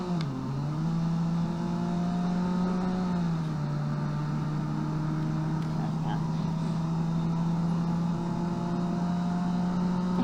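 A race car engine in the Automation driving game holding a steady high drone at speed, one sustained tone dipping briefly after a shift and then staying level and loud throughout.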